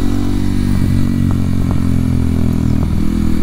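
Kawasaki KLX 230SM motorcycle single-cylinder engine running steadily while riding through historic streets, a loud continuous drone with a few sharp exhaust pops and clatter, no talking.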